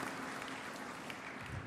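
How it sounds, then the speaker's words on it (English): Brief burst of audience applause at an engineering awards ceremony, a dense wash of clapping that stays level and fairly soft for under two seconds. "Can you please give her a round of applause?"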